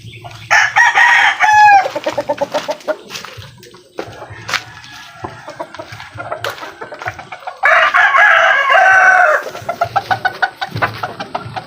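A rooster crows loudly nearby twice, a long strained call each time, amid clucking and pecking chickens.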